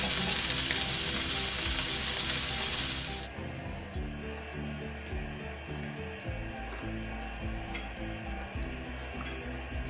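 Vegetables for a veggie pasta fry in a pan with a loud, bright sizzle for a few seconds, then settle into a softer steady frying hiss beneath background music.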